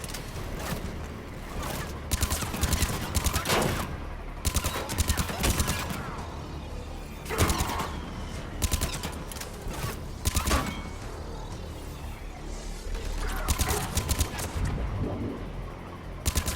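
Rapid bursts of rifle fire in the Mass Effect Legendary Edition game, loud repeated volleys with short pauses between, over a constant background of combat noise and mechanical clatter.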